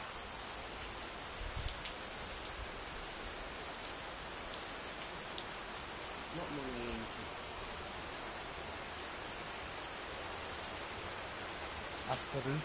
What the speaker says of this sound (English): in rain showers like this here now.